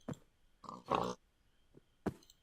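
A pig in a medieval video game gives a few short grunts and one louder squeal, separate bursts close by with quiet gaps between them.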